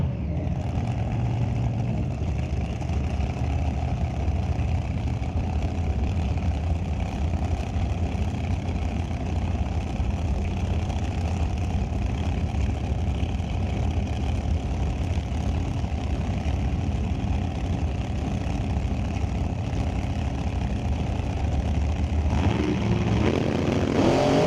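A 2007 Race Tech dragster with a 615 big block Chevy idles at the start line, a steady, deep rumbling drone held for the whole stretch, fairly close and alone.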